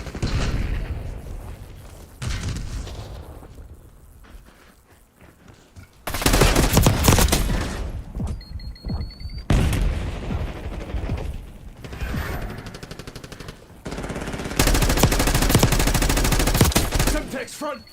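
Gunfire from a hostile shooter in a video game, long loud bursts of rapid automatic shots alternating with quieter stretches, with mechanical clicks and a voice talking in between.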